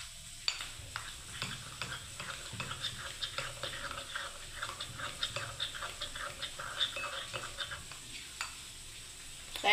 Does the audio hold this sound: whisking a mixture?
yes